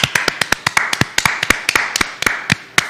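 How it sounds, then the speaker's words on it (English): People clap at a live show, a burst of sharp, fairly close claps in an uneven rhythm, loud and clear with no talk over them. "Why don't we just clap for John?"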